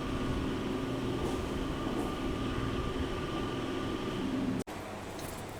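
Local train at Belur Math station, a steady loud rumble and hum of rolling carriages with a sharp clunk near the end, no voices.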